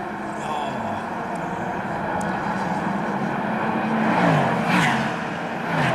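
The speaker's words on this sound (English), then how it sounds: "Daytona prototype sweeping through." A Daytona prototype race car sweeps past on a circuit, its engine roar building from a distance to a loud, close pass and then easing off, with no voices.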